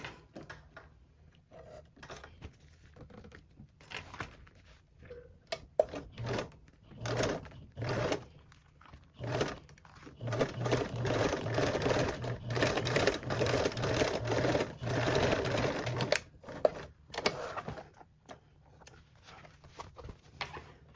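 A sewing machine top stitches a seam along a bag base, running in bursts of rapid mechanical stitching with short pauses between, close and fairly loud.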